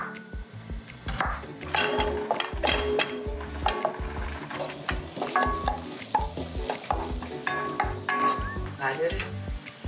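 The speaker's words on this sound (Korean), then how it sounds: "마늘 살짝 볶아 놓을까?" Garlic sizzles and crackles in hot oil while a utensil scrapes and taps against the pan, close and continuous.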